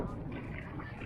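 Wind rushes steadily across Lake Iseo around a kayak near the peat-bog area, a continuous close buffeting roar with low rumble and no talk.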